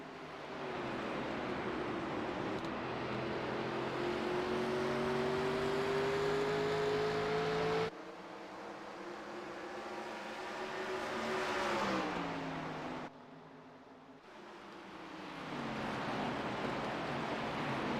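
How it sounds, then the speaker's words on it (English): Stock cars roar around Phoenix Raceway in a racing video game, a dense, sustained engine drone with rising pitch sweeps as the pack accelerates, loud and continuous across the whole stretch with brief dips. "Drivers hitting the start finish. Let's go racing at Phoenix Raceway."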